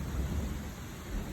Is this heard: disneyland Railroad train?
no